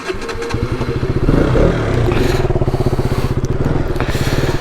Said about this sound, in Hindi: फिर ऑन करना पड़ता है, तब जाके बाइक स्टार्ट होगी